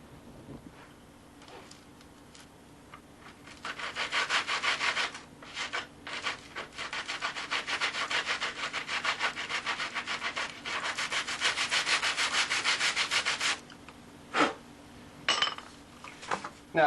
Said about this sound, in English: I have the rough sanding block, that's one way.